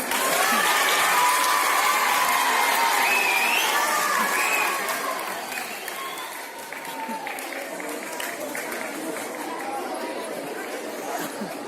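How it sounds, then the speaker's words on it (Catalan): An audience applauds after a performance, loud dense clapping that holds for a few seconds and then thins into lighter claps with crowd chatter and some children's shouts beneath. "Un aplaudiment."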